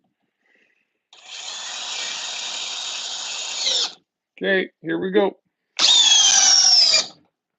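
A power drill in drill mode at speed 2 whines steadily for about three seconds, then gives two short bursts and a final sustained run, close and loud; a person speaks briefly before it starts.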